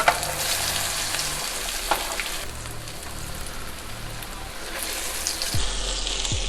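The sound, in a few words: black bean burger patties frying on high flame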